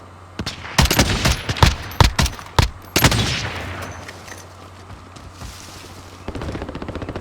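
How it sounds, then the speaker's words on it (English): Sharp gunfire in Call of Duty Warzone, a series of loud separate cracks with decaying tails over the first three seconds, then quieter rattling shots later. "I'm hearing more sniper shots from over here"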